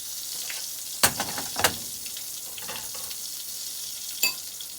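Chicken of the Woods mushrooms fry in a pan, a soft continuous sizzle heard up close, broken by a few sharp clacks and scrapes as the pieces are stirred and turned.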